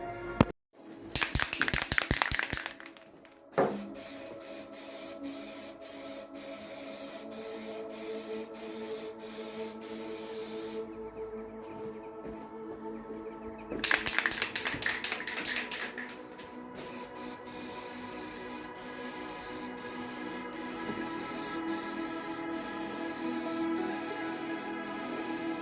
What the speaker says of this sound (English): I am now going to give this a quick coating of white primer